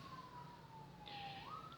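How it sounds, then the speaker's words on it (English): A faint, distant emergency siren wails in a slowly sliding tone, rising in pitch toward the end, heard far off under quiet background noise. "That's the siren."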